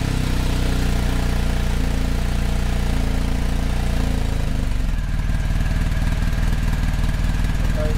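BMW R1250GS motorcycle engine with an SC Project Adventure exhaust runs loud and close, a deep throbbing idle that shifts partway through into a sharper, busier pulse as the revs change.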